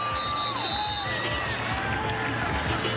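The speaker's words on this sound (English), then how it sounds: "And the crowd loves it." A steady, dense roar from the crowd at a Senior Bowl college football stadium, sustained and washing over everything, with a commentator speaking over it.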